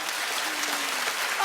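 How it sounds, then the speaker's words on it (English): A television talk show studio audience applauds continuously, a dense, even wash of clapping that holds steady for the whole stretch. "Keep clapping, you guys."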